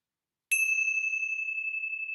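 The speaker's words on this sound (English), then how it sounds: "I'm going to close our time together with the ringing of the bells." A single bell rings once to close a meditation session, struck after a short silence and sustaining as a clear, bright tone that slowly fades.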